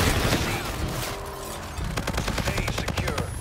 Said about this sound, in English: Roger, inbound for gun run.